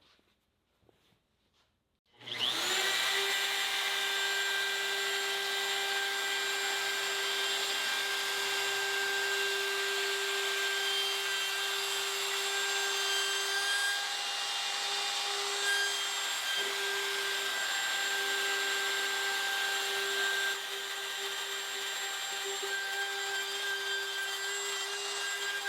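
A router riding on a TrueTrac slab mill spins up abruptly after a moment of quiet, then whines steadily and loudly, close by, with a sustained high-pitched hum while making passes across a wooden slab.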